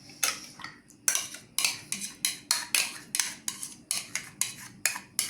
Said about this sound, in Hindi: दही की मैंने कटोरी डाली